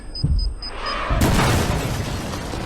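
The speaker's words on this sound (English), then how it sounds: "Suddenly, an explosion goes off underneath us, causing the floor to collapse." A video game explosion erupts beneath the floor as it collapses, a loud broadband boom bursting in about a second in and rumbling on to the end, after a few faint high electronic blips.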